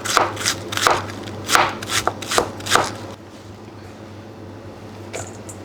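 Vegetables for Thai spring rolls are sliced thin with quick crisp cuts, about eight sharp strokes in a brisk rhythm close by, then quiet with a faint tap near the end.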